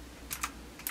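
Typing on a PNK Stuff computer keyboard with backlit keys: a few quick, crisp key clicks spaced irregularly over a quiet background, close and moderately faint.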